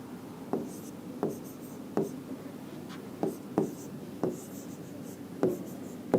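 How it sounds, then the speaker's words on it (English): Pen strokes on paper while working out a coded word for a reasoning puzzle: short scratchy marks recurring about every half second to second, close and clear with no talk over them. "again here I am writing this coded word."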